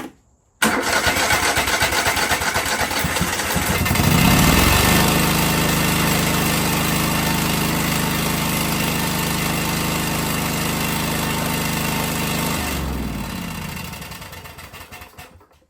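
Craftsman DYT 4000 lawn tractor engine misfiring on one cylinder, starting abruptly then revving up and settling into a loud, rough steady run up close before cutting off near the end.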